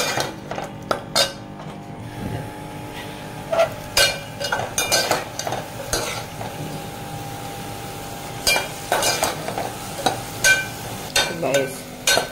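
Chicken frying in a pan as soy sauce is added and stirred: a steady sizzle with repeated metallic scrapes and clinks of a utensil against the pan, close and fairly loud.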